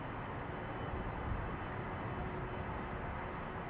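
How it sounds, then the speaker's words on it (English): Boeing 747 cargo jet at Amsterdam Schiphol Airport, a steady, broad engine roar held at constant loudness throughout, fairly distant and unbroken. "(747) cargo coming this way."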